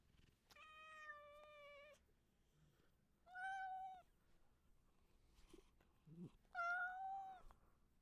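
A pet cat meows three times, each cry drawn-out and tonal, close by and fairly quiet, with soft rustling and a faint voice between the calls.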